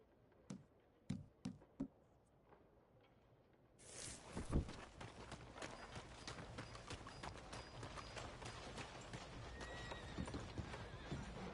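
In Red Dead Redemption 2, a horse's hooves clip-clop in a few sharp, separate knocks, then a louder stretch follows with a whinny, steady hoofbeats and busy outdoor ambience running to the end.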